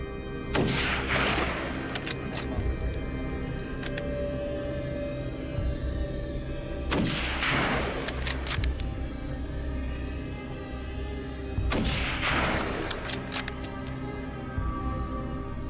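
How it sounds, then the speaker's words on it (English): Rifle shots fired at wild hogs during a farm hog hunt: three sharp, loud reports spaced several seconds apart, each with a brief echoing tail over steady outdoor background noise. "I hold my ground, grip my rifle, and let off a shot."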